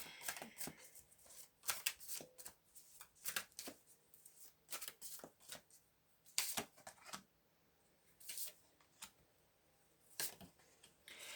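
Tarot cards are shuffled and riffled in repeated quick bursts with short pauses between, crisp and close.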